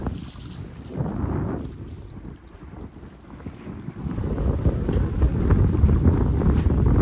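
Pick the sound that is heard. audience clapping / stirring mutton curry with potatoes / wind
wind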